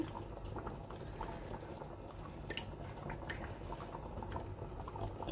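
Ghee going into a hot pan of chicken roast with garam masala, giving a steady low bubbling sizzle with a brief splashy crackle midway, fairly quiet and continuous.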